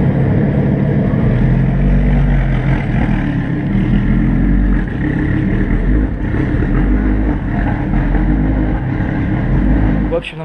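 A Lamborghini lapping a race track in Shanghai gives a loud, steady engine roar mixed with rushing wind that continues unbroken throughout, with a voice faintly under it.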